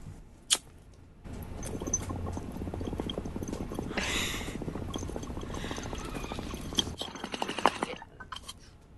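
Gurgling water in a bong bubbles steadily in short rapid pops for several seconds, close by, with a brief airy rush midway and a few light knocks.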